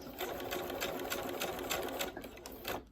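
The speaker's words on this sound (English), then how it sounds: "I'm gonna start to sew" Close and steady, a sewing machine whirs continuously through a three-second run as it stitches a two-color ribbon tutu, with fast regular needle ticks throughout and no talk.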